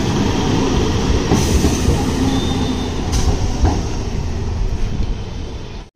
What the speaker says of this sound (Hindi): अपना भी लोकल ट्रेन आ चुका है